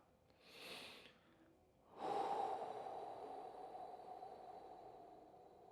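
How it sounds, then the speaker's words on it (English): A long, audible exhale from a seated breathing exercise, a breathy rush that swells and then trails on steadily for several seconds after a shorter, softer breath, close and quiet with no talking. "do a long exhale"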